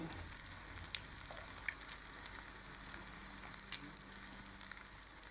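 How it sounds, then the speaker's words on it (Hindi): Chapli kebabs fry in hot ghee with a steady, soft sizzle and scattered small pops and crackles, heard alone and quite faint throughout. "घी हमारा अच्छी तरह गर्म हो गया। अब हम फ्राई का अमल शुरू कर लेते हैं।"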